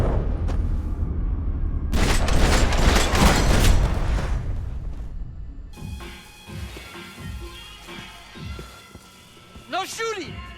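A dense, booming burst of gunfire rolls through the Max Payne 3 game for several seconds, then fades into a tense ambient background as a voice talks over it.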